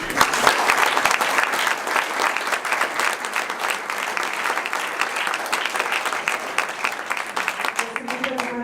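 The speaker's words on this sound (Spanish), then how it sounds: "Demos un fuerte aplauso." Sustained audience applause at the 15th anniversary ceremony of the Quintana Roo Electoral Tribunal, dense steady clapping filling the hall for several seconds before tapering slightly at the end.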